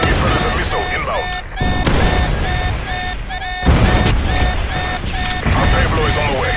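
Predator missile strikes landing in Call of Duty MW3, heavy booming explosions bursting repeatedly among dense gunfire and game radio chatter, loud and close throughout.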